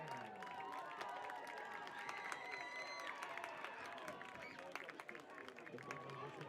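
Crowd applause and cheering in a football stadium greeting the Southern Virginia University marching band as it returns to the field, a broad wash of clapping under an announcer's voice and background chatter.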